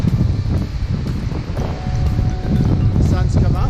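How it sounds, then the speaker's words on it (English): A strong gale blows on a cold early-morning ultra trail run in Australia, making heavy, gusty buffeting against the microphone that rumbles and pulses close and loud throughout. "It is blowing a gale."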